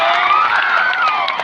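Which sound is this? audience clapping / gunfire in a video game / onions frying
audience clapping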